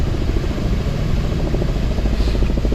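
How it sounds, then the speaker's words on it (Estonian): A helicopter somewhere nearby gives a continuous, loud, rumbling drone with a rapid pulsing beat, steady throughout without a clear approach or fade. "Mingi helikopter on nüüd kuskil."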